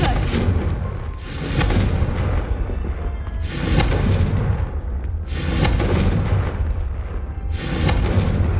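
Confringo spell blasts in Hogwarts Legacy, a series of loud booming explosions arriving every couple of seconds, each a broad crashing burst that trails off before the next.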